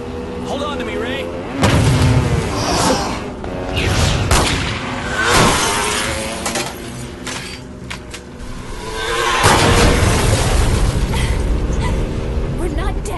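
Gunfire and explosive booms in an anime action scene, with loud bursts and blasts crashing repeatedly through the clip, the heaviest near the start and again toward the end, while voices shout underneath.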